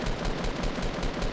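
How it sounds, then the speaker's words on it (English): Rapid automatic gunfire from a weapon in Fortnite Battle Royale, a steady fast stream of loud shots played alone with no talking over it. "So I have to fire back at this dude."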